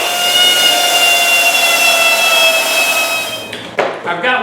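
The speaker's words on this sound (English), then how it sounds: "let me finish drilling the holes here for the license plate to mount up" A power drill boring holes through plywood for a license plate mount, a steady high whine running several seconds close up, then stopping into a few clunks.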